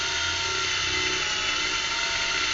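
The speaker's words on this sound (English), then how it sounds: "we'll just finish off with an 8 millimetre drill, which is the size of the rim lock." An 8 millimetre drill bit bores a hole for a rim lock. The drill whines steadily and loudly throughout, close up and without talk.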